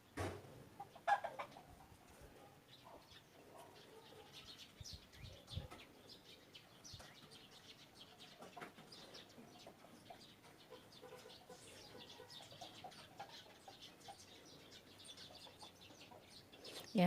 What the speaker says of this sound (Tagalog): ngayon dadalawa na yung nag-iingay, ibon at saka manok